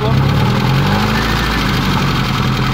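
A faulty car engine runs loudly nearby at a steady idle, with a rapid, regular knocking pulse beneath the low rumble.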